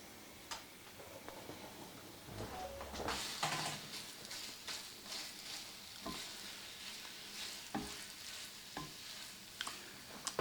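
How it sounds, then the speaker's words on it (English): Carrots and English peas cooking in a hot pan, a soft steady sizzle with scattered stirring clicks and occasional louder utensil knocks, fairly quiet and with no talking. "I'm going to cook my carrots until they're fork tender"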